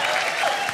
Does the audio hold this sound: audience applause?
yes